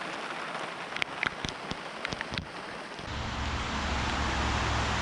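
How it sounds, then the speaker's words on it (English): Heavy downpour of rain outdoors in a front yard with spruce trees, a dense, steady hiss that thickens into a louder roar partway through, with a few sharper drips and knocks early on. "Rain, rain, rain, rain, rain, rain all day."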